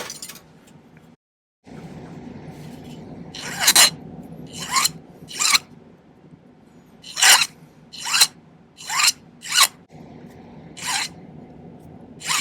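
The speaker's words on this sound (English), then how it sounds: "Now I'm just going to do a little bit of filing till I have it just about exactly the same size." A hand file rasps on silver during silversmithing work on a tendril stone setting: about nine short, crisp scraping strokes in irregular bursts, close and clear against a quiet room.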